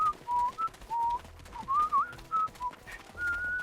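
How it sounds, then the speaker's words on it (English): A video game character whistles a short, wandering tune in clear separate notes, thin and fairly quiet, with no talking over it. "Stop that whistling immediately!"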